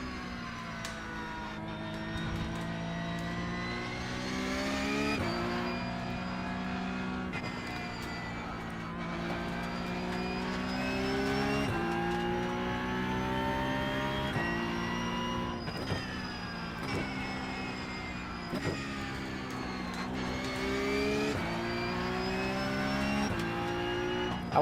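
A race car screams around Imola in a racing video game, its engine note rising and falling steadily through gear changes for the whole stretch, loud and continuous with no voices over it.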